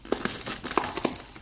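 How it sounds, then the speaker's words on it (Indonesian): Crinkling and tearing of plastic wrap while unboxing a book package, a quick series of close, crisp rustles. "Jadi sekarang kita unboxing."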